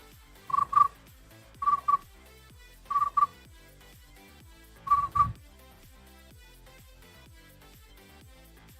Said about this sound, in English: You hear all those crickets in the background?